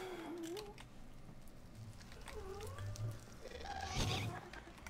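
Cat meowing several times, with rising and falling wails rising over steady low background noise; the cries are moderately close and come without speech.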